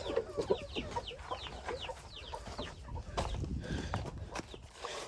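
Chickens cluck in a repeated, overlapping series of short calls close by, with rustling and a busy farmyard background throughout.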